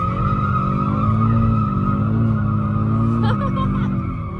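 AWD Audi drift car making a transition, a loud sustained engine drone with a squealing tire tone that wavers then drops away, close and continuous.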